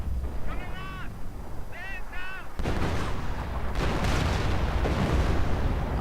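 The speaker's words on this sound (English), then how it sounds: "What is this? Artillery being called in?" Video-game artillery fire comes in as a dense, continuous barrage of booms and crackling blasts that starts abruptly partway through. Before it, short bursts of voice-like chatter stand over a steady rumbling background.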